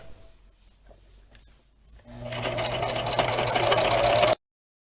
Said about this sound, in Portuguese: Começa a passar minha costura rente à caixinha de leite.